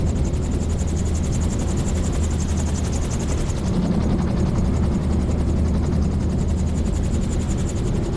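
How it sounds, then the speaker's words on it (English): A gyrocopter engine is heard from inside the cockpit while the aircraft flies on a gusty day, a loud, steady droning buzz with rotor chop as power comes back gradually toward idle. "Power's coming back gradually, and there we go, back to idle."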